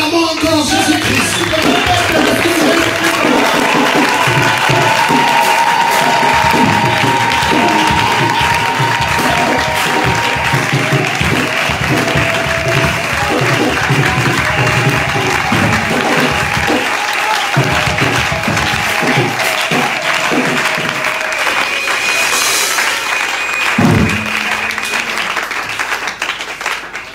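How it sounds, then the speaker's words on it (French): A church congregation applauding and cheering during a seminar assembly in Masina, Kinshasa, a loud continuous wash of clapping and crowd voices that holds steady for nearly half a minute. "C'est pourquoi nous acclamons encore Jésus-Christ."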